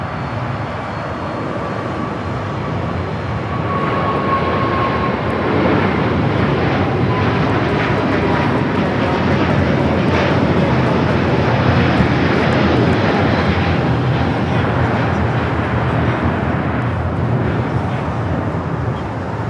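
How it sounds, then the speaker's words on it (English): A Delta Airbus A350-900 takes off at LAX, its engines producing a loud, steady roar that builds and holds for the whole stretch, with a faint whining tone above the broad rumble. "We have the 350-900 with Delta taking off."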